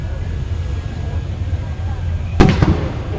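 A Ford Mustang explodes and catches fire, giving a sudden loud burst followed by a couple of quick crackling pops over steady crowd and engine rumble at a drag event.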